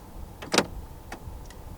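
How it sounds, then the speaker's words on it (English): Central locking on a 2022 Honda HR-V 1.5 Turbo E actuating inside the cabin: one sharp, close mechanical clunk, then two lighter clicks spaced about half a second apart, with no talking. "Central locking."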